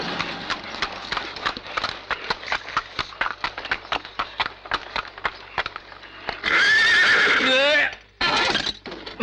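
A horse whinnies loudly and close after a steady run of clip-clopping hooves. Speech comes in over the hoof beats, then the long neigh rises and falls before a brief final burst.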